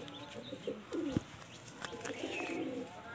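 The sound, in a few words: Kotashi pigeons cooing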